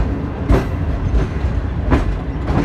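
Millat Express passenger train hauled by a CRRC Tangshan locomotive rolling past, a loud, close rumble with rhythmic clickety-clack of wheels over rail joints.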